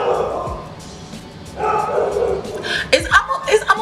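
A dog barks in a home setting, giving a few sharp, close barks near the end after quieter yips and whimpers, with a person's voice and light laughter underneath.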